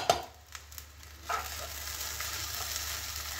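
Semai upma being stirred with a spoonful of butter in a hot pan, a steady close sizzle and frying crackle with a few scraping stir strokes near the start, no talking.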